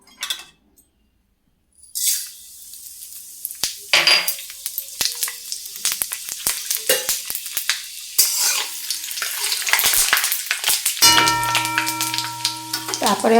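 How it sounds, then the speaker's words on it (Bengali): Five-spice tempering dropped into hot mustard oil in a wok: a sharp burst of crackling sizzle after a brief silence, with scattered pops, clinks of the utensil and a sustained frying hiss. "তেল গরম হয়ে গেছে, এবার আমি এতে দিয়ে দেবো ফোড়নের জন্যে 5 ফোড়ন।"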